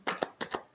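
Tarot cards riffle in a quick shuffle, with two paired bursts of crisp card flutter close to the mic and no voices over them.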